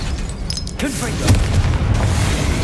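A Confringo explosive spell from Hogwarts Legacy bursts in a deep, booming blast, a short swelling rumble that stays loud and full through the moment.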